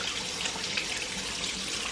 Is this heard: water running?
yes